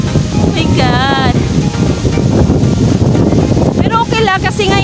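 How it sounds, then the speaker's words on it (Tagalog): Strong wind buffets the microphone on an open outdoor site with no buildings, a loud steady roar filling the whole clip, while people call out excitedly over it. "Ang lakas ng hangin mga kakirify."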